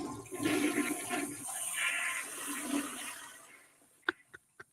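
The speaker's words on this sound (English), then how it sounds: "Go ahead, double flush for me, JP." A household toilet flushes with a long rush of swirling water that gradually fades, followed by a few sharp clicks of the handle, close and clear, with no talking.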